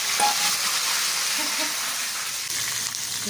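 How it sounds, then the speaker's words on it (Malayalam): Mustard seeds splutter in hot oil, which sizzles and crackles steadily with a dense spitting hiss throughout, with no talk. "എണ്ണ ചൂടായി, അതിനകത്തേക്ക് കടുക് ഇട്ടു. കടുക് പൊട്ടിയിട്ടുണ്ട്."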